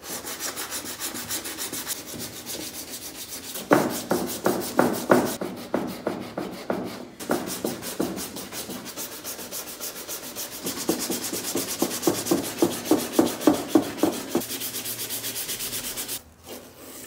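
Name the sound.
sanding the bodywork of a toy electric Ferrari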